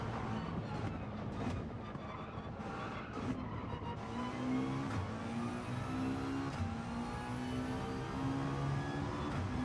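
A race car engine in Gran Turismo 7 drones at moderate volume, its pitch rising and falling through gear shifts and revs, with no talk over it.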